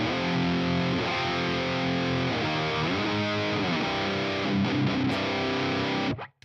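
Heavily distorted electric guitar playing sustained open chords through an amp plugin, loud and thick with ringing chord changes, cutting off abruptly at the end with no talking.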